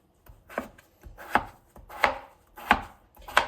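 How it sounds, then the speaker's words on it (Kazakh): Knife chopping potatoes on a cutting board for a Kazakh chicken soup, five distinct, evenly spaced chops, close and crisp with no talking. "Ең алдымен мен картопты майдалап турап аламын."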